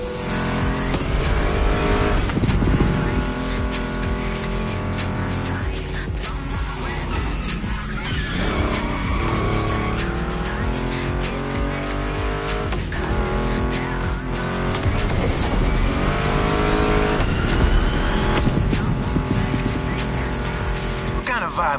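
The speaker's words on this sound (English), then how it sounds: "Meshes well with the sound of the engines" Revving muscle car engines, including a Mustang GT, in The Crew Motorfest, with squealing tires and skids, loud and continuous, layered with music and a voice talking over it.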